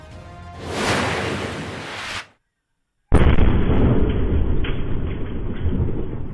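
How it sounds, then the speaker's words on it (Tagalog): Fireworks in central Zamboanga City: a heavy explosive boom roars and rumbles for a couple of seconds, then after a brief silence another loud blast erupts into a sustained crackling roar. "Ramdam sa sentro ng Zamboanga City ang pagsabog ng mga paputok"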